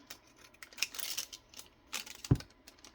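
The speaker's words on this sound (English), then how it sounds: "I'm gonna cut these down" Paper craft pieces for ephemera being trimmed with scissors, a few quiet close snips and rustles with one sharper click, no talking.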